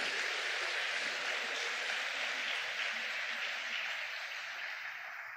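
A church congregation claps together during a worship service, a dense, steady wash of many hands that fills the room, holding loud and even before fading slightly at the end.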